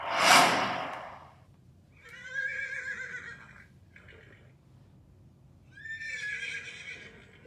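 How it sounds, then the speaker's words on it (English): Two shrill horse neighs, each a wavering whinny, separated by a pause, following an initial burst of broadband noise; fairly close and clear. "Of course it's a horse."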